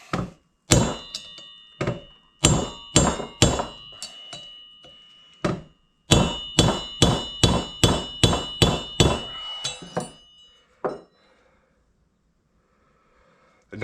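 An old rusty screwdriver hammered to drive out a Honda 350X front hub bearing, a series of sharp ringing metallic taps in bursts, loud and close, fading to quiet at the end.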